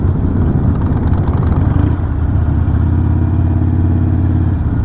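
Harley-Davidson Sportster motorcycles ride as a large group on the Donington race circuit, with a loud, continuous, close engine roar and wind rush throughout.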